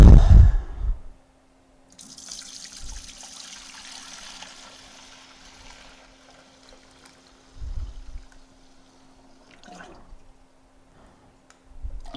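Water pours into a container, a steady rushing stream that runs for several seconds with a few brief bumps and knocks along the way, heard close up without talk.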